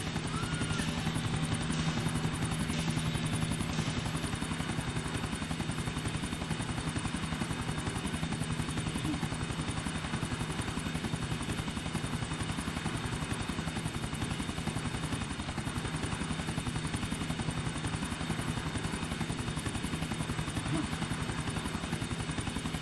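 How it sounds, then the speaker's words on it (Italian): Helicopters in the GTA IV video game fly overhead in a steady, continuous rotor drone, with clattering gunfire-like bursts scattered through the game soundscape. "Uè, oggi tutti gli elicotteri rossi."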